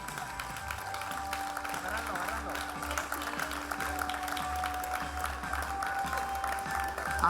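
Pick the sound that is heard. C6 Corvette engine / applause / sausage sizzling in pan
applause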